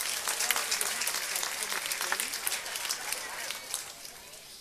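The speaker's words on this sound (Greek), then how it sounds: "Ένα χειροκρότημα στη Βλαστού τη Ζαχαρένια." An audience applauds at an awards ceremony honoring Cretan artists, held by a Mylopotamos association in Heraklion. The dense, crackling clapping is loudest at first and then gradually tapers off.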